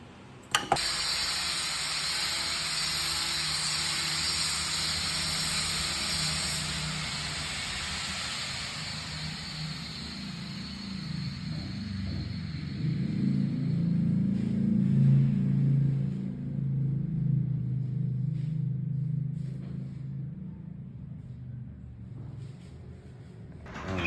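A coffee grinder runs steadily, grinding beans to a fine setting, with a continuous whirring hiss that deepens and grows louder partway through before easing off near the end.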